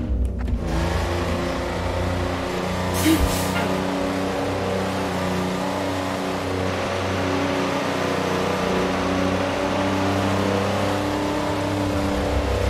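A car drifting at speed in the truck-driving video game American Dream, a steady engine drone with layered harmonic hum running throughout, loud and continuous, with a brief higher whine partway.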